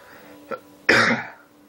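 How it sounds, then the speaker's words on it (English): A single short throat clear followed by a louder, rough cough, close and alone with no talk. "Yes, I'm coughing more frequently,"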